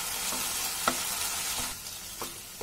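Chicken pieces sizzle loudly in a pan for egg chicken fried rice, a continuous close hiss broken by a few stirring scrapes and clicks of the spatula, no voices.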